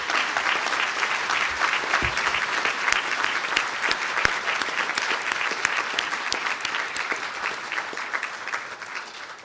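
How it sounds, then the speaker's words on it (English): Audience applauding at a university conferring ceremony in a hall, a dense, sustained round of clapping from many hands that gradually tapers toward the end. "please stand for a round of applause"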